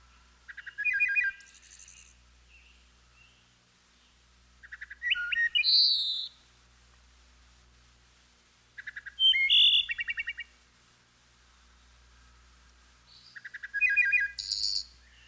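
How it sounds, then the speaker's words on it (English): A wood thrush sings four separate fluting, ringing phrases spaced by quiet pauses, clear and close against a silent background. "Wood thrush"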